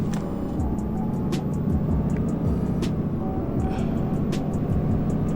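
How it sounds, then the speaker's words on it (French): Solaris Urbino 18 ecolife articulated bus in a driving simulator on route 865, a steady low engine drone and road rumble held throughout with faint clicks, no talk over it. "moi je veux bien que vous entendiez le bruit du bus"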